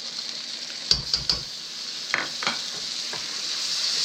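Garlic noodle sauce poured into a hot pan hisses into a steady sizzle, with a few clinks of utensil against the pan early on and some stirring scrapes.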